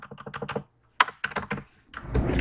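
Fingers type on a computer keyboard while code is written, a quick close run of key clicks that breaks off for a moment and then resumes in short bursts, with no voices.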